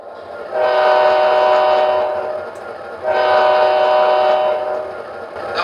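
An MTH Railking New York Central Aerotrain model locomotive sounds two long, loud, sustained horn blasts of about two seconds each with a short gap between them, and a faint running rumble continues underneath. There is no talking.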